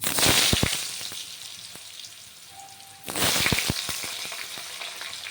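Cut bottle gourd pieces drop into hot oil tempered with five-spice and dried red chillies, bursting into loud crackling sizzle, easing, then flaring again as more pieces go in.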